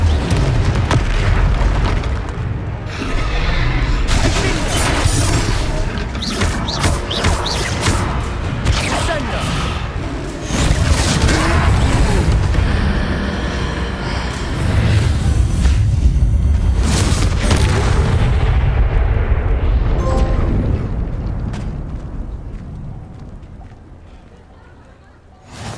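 Confringo explosion spell blasting a troll in Hogwarts Legacy, a loud sustained rumble of booms and thuds with heavy low-end impacts that fades out near the end, mixed with game voices and effects.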